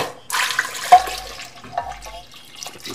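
Water poured from a vessel into a cooking pan while making a potato snack, a short splashing gush followed by a second brief pour, close and fairly loud.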